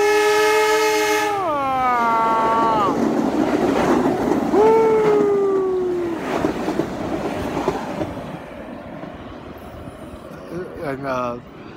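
A train passes a station platform, its horn blaring in long tones before sliding down in pitch, with rumbling wheels and rail noise filling the clip and a final horn blast near the end.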